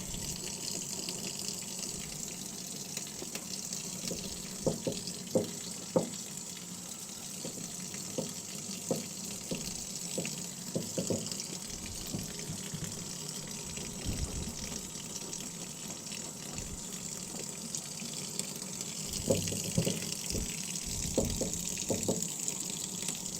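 Water runs from a tap while a cleaning cloth used on leather boots is rinsed and wrung out, a steady faint gush with scattered splashes and drips nearby.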